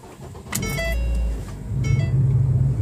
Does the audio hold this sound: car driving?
yes